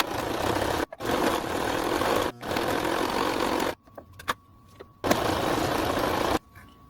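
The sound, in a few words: sewing fabric pieces together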